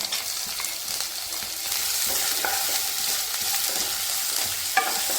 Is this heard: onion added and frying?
yes